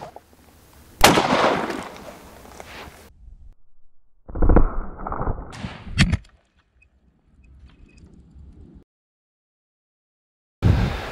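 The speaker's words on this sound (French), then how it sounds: "une vraie balle en 12, ça donne ça." A 12 gauge shotgun fires a real slug outdoors: one sharp, loud blast followed by a long decaying roll, then quieter handling noise and another loud crack near the end.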